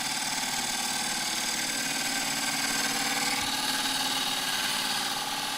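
Lathe spinning an oak burr bowl during woodturning, with a steady whirring, droning tone and a dense, continuous rasp of cutting that stays close and loud throughout without pause.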